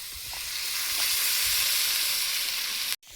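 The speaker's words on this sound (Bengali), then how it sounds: "সবজিটা কষিয়ে নিয়েছি এবারে জল দিয়ে দেব" Loud steady sizzle of water poured onto vegetables sautéing in a hot pan, a broad hiss that holds evenly throughout and cuts off abruptly near the end, with no voices.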